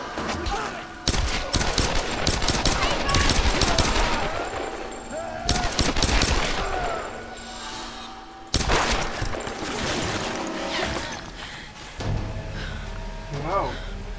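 Bursts of rapid automatic gunfire from the Tomb Raider video game, loud and close, arrive in clusters with pauses between them, while gasps and voices are heard over the shooting.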